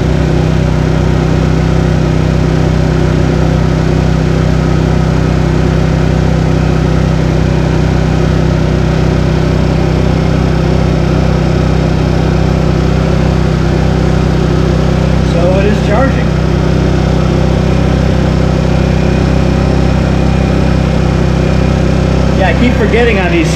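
A Black Ice Bear scooter's engine runs loud and close the whole time, a steady droning idle with a slight rise in revs late on, while someone talks over it.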